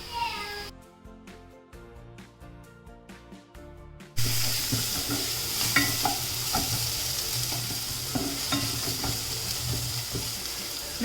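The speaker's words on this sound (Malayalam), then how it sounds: "ഈ സവാള ഇത്രയും വഴറ്റുന്നതിന് ആവശ്യമായിട്ടുള്ള ഉപ്പ് ചേർത്ത് കൊടുക്കുക" Sliced onions with salt sauté in a pan for Malabar chicken pathiri, giving a steady close sizzle broken by scraping stirs after a short musical opening, with a voice talking now and then.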